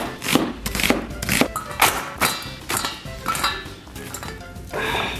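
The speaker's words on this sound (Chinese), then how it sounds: "咱们把洋葱切成这种细丝儿" A knife cuts an onion into thin strips on a board, a series of close, sharp chopping knocks in an uneven rhythm, about nine or ten strokes with no talking.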